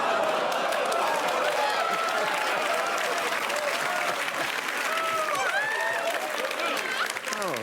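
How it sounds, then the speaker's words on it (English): A studio audience on a late-night talk show swells into loud, sustained applause and cheering that fills the whole stretch, dense and close, with rising whoops near the end. "Oohing into applause. You don't hear that a lot,"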